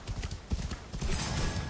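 Horse hooves clip-clopping in a video game, a quick steady rhythm of close hoof strikes that builds into a denser, louder patter partway through, with no talk over it.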